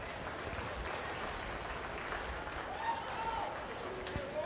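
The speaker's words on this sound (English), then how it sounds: "if we could we please give both these champion exhibitors a nice little round of applause?" Crowd applause at a county fair 4-H and FFA market lamb show for champion exhibitors, a continuous moderate clapping from the audience with faint voices and a brief tonal sound mixed in toward the end.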